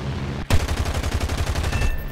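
Twin MG151 aircraft machine guns on a So.8000 Narval fighter in a flight video game open fire in a sudden, rapid, rattling burst that runs for over a second and a half, loud and close.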